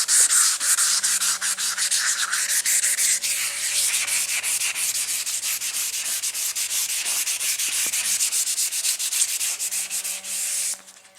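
Rounding off the edges of a fiberglass dashboard repair by hand gives continuous rhythmic sanding strokes, close and fairly loud, scraping back and forth with no talking over it.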